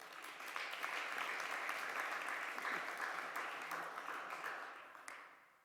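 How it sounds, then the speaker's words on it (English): A conference audience gives a round of applause, soft and somewhat distant, holding a steady patter of many hands before tapering off near the end. "Another round of applause for Paul."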